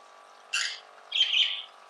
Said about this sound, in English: Come on, Luna, show them how to take a bath like a budgie